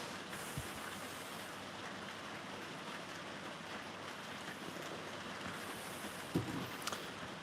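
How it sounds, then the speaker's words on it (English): Heavy rain hammers down on a roof, forming a dense, steady hiss that fills the whole stretch without letup, with a couple of small knocks near the end and no talking. "listen to that rain hammering it down"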